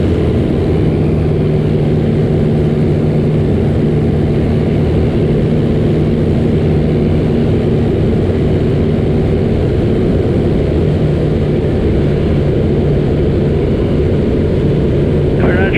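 Piper Archer light aircraft engine drone during approach, a loud, unbroken low propeller hum heard from inside the cabin, steady throughout, with faint voices underneath.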